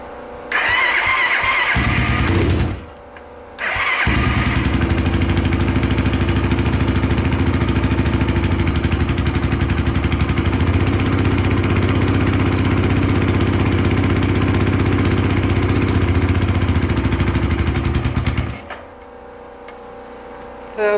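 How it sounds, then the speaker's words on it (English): An ATV engine fitted with a PZ30 carburetor cold-starts loudly up close, catching briefly, cutting out, then firing again and running steadily for about fifteen seconds before shutting off. "So it started, and probably a little bit of playing with the throttle a little bit, it would stay running."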